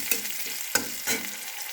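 Chopped onion fries in a pan with a steady sizzle, broken by a few sharp scrapes of a spoon stirring it, close and alone with no voices.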